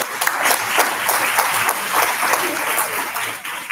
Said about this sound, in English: Let's have another round of applause for Evelyn.